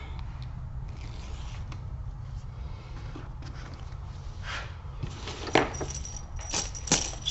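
Backing being peeled off double-sided tape on a leather toiletry kit, a run of faint scratchy rubs and scrapes, with a couple of sharper tearing peaks near the end.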